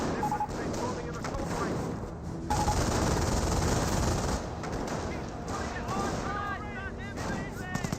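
Rapid machine gun bursts fire in Company of Heroes, a World War II strategy game, as bursts of varying length repeat and overlap with other gunfire and battle noise, loud and sustained beneath a commentator's talk.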